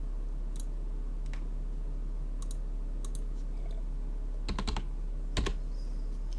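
Quick bursts of computer keyboard typing during a live stream, scattered clicks across several seconds with two louder flurries near the end, close and fairly crisp over a steady low background hum.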